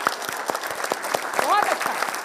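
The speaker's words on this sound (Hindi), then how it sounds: "तालियां बजाइए भाई इनके लिए" An audience claps for two young speakers on a Hindi televised debate show, sparse individual claps spaced out with a host's voice and other talk running over them.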